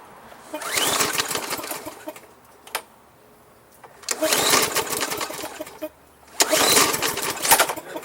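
A cheap secondhand Yard Machines walk-behind lawn mower engine runs and surges in three loud, close waves of rough buzzing, dropping back to a lower idle between them.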